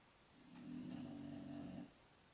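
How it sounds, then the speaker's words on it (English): A dog lying outside a door lets out a single long, low snore of about a second and a half, steady and fairly close, with no talking. "And my Nina is outside my door snoring."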